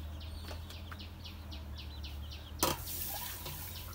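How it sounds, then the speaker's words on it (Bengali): Rice and sweet pumpkin being washed in water in a pot, soft sloshing and dripping with a steady low background hum, then one sharper splash near the end. "পাল্লের মধ্যে আমি চাল ধুয়ে নিচ্ছি"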